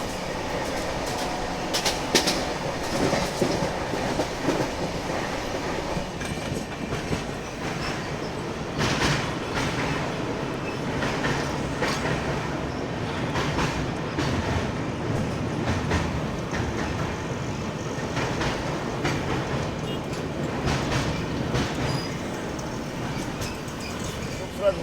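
Pune–Kolkata Humsafar Express running on rails, a continuous rumbling roar with rhythmic clickety-clack and occasional wheel squeal heard from inside the moving train, with a voice talking over it throughout.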